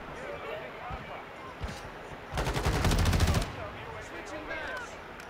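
Rapid automatic gunfire in a Call of Duty match, a roughly one-second burst of fast shots standing out over the game's background noise.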